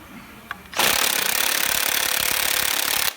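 An Ingersoll Rand W5152 20V cordless impact wrench hammers on a regular 19mm socket against a Honda crank bolt, a loud, close, continuous rattling burst of about two and a half seconds after a brief quiet start.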